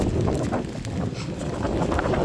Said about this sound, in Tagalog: Sobrang malakas na yung hangin sa dali.